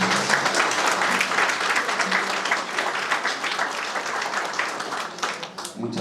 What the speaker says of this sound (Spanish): recibamos al coordinador de la obra que hoy nos congrega con un fuerte aplauso